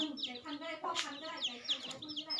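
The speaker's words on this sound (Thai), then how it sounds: "อันนี้ไก่ชนนะคะ" A fighting rooster clucks and calls repeatedly in short bursts at close range, with other birds chirping around it and faint chatter from people in the background.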